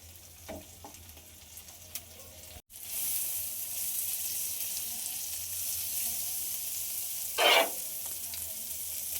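Butter sizzles in a pan while pav bhaji cooks, a steady broadband hiss with a few soft stirring knocks and one brief louder scrape near the end; no one speaks.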